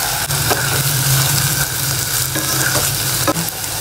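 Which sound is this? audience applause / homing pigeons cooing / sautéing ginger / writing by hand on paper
sautéing ginger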